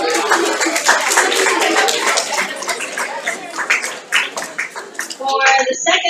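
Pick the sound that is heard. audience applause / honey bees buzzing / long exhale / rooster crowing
audience applause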